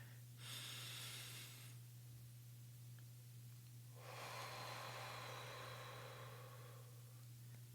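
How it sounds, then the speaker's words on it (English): A person breathes slowly and audibly close to the microphone, one long breath followed by a second after a pause, over a steady low hum. "So I'm going to breathe in."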